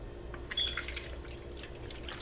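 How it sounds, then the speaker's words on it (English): Water trickles and drips into a baking dish of BBQ chicken drizzled with melted butter, a brief, light pour heard close by. "We're going to add just a little bit of water,"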